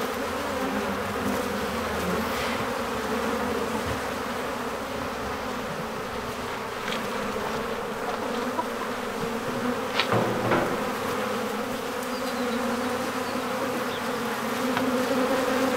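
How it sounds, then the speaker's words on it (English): A steady, dense buzzing of many bees around a bird bath fills the air outdoors on a desert farm, continuous and close, with a few louder passes near the middle. "bees have just really kind of taken over. And hopefully you pick up the sound."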